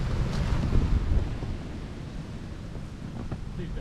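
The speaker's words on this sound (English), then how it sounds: "This is where the AT starts. With this wind." Wind gusts roar against the microphone at the Appalachian Trail southern terminus, a loud buffeting rumble strongest at first, then settling into a steadier rushing noise.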